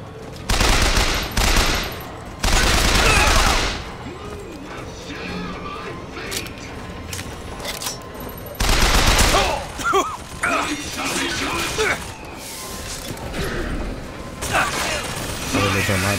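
Heavy gunfire in Bioshock Infinite gameplay, loud bursts of automatic fire around the opening seconds and again near the ninth second, with game clatter and mechanical noises between volleys.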